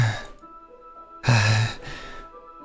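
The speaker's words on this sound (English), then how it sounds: "A sharp inhale, like someone is sucking air through their teeth." A sharp hiss of breath drawn in through the teeth in the visual novel Doki Doki Plus, heard as two or three separate breathy bursts, the middle one loudest, over a quiet game backdrop.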